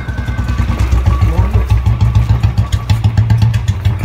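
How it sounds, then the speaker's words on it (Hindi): A Royal Enfield Bullet motorcycle, started without keys, idles loud and close with a steady thumping beat and a slight mechanical clatter. "तो आप देख सकते हैं बिना कीज के बाइक चल रही है."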